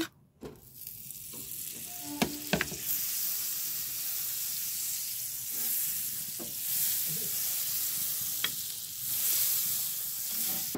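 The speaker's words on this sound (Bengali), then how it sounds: "ফ্রাই প্যানে কিছুটা বাটার দিয়ে দেব" Butter melts in a frying pan with a soft, continuous sizzle, and a few sharp utensil clicks and taps sound close by during the first seconds. No one speaks.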